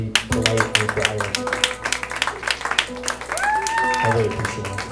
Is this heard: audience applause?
yes